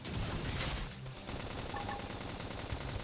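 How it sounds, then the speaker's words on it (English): A flame grenade bursts in the Xenoblade Chronicles X video game, a dense crackling blast with fiery roar carried under continuous battle noise and music throughout. "Flame grenade!"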